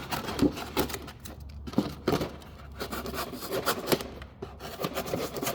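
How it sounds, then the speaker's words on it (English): Foam being carved for a reptile enclosure project as layers are peeled back, producing close scraping and rasping strokes with irregular rhythm and soft tearing textures. "I'm basically just going to kind of start peeling back some of these layers, following the general shape of the foam."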